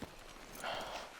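Horse hooves clop at a walking pace in Red Dead Redemption 2, a few soft, fairly quiet hoofbeats over a brief moment.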